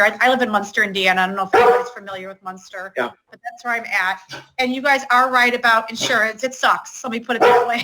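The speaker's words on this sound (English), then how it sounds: "Sorry about my dog." A dog barks indoors in a home while someone talks continuously over a computer call; the barks are brief and partly buried beneath her voice.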